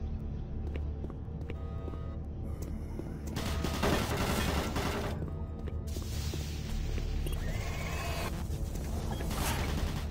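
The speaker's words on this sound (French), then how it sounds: "Alerte. Tourelle automatique activée." Automatic turret in Doom 3 firing steady, dense bursts of gunfire over a droning background hum, punctuated by a few brighter clanking blasts.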